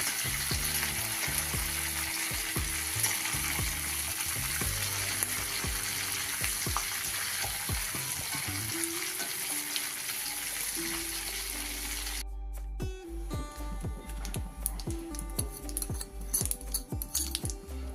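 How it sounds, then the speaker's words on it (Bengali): Taro leaves fry in a pan with a constant loud sizzle, then the hiss drops away, leaving quieter crackles and scattered clicks of stirring. "একটা ভাজা ভাজা হয়ে গেছে নুন দিয়ে দিলাম"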